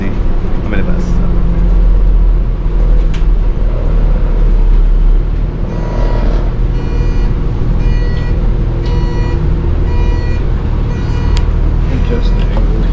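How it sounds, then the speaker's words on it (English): Interior of a moving shuttle bus in Yosemite, with a steady loud engine and road rumble filling the cabin throughout and a voice talking over it. "Obviously, I'm in a bus."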